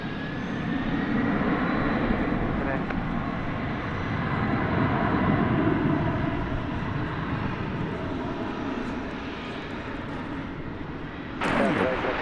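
A plane takes off at DFW Airport at night, and its broad jet engine roar fills the scene, steady and loud, with a sudden sharp burst near the end. A radio voice talks over the roar.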